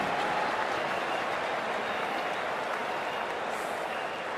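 A crowd in the stands at a South Africa versus India one-day international cricket match roars and applauds after a six, a steady broad wash of cheering that fades slightly at the end.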